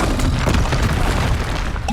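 The Confringo fire spell in the Hogwarts Legacy video game lands as a loud, dense blast with a rumbling burst and crackling debris. The boom stays continuous for about two seconds.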